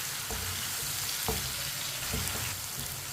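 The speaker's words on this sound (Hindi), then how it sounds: "टमाटर को भी 2 मिनट के लिए पका लेंगे मिक्स करके" Chopped tomatoes fry softly in a pan for a white chana curry, a low steady sizzle broken by a few faint scrapes of the spoon as they are mixed.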